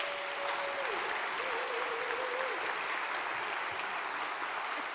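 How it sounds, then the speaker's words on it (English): Steady applause from a church congregation fills the room, continuous clapping at an even level throughout, with a faint tone briefly audible beneath it. "Let's give these families a round of applause."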